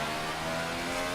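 Onboard engine of a Ferrari Formula 1 car in a racing video game, a steady loud high-pitched whine held at near-constant revs throughout, with no voices.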